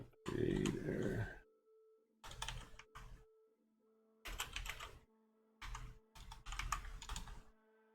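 Bursts of typing on a computer keyboard come in short clusters separated by pauses, clicking close and clear, with a faint steady hum underneath and no speech over the keystrokes.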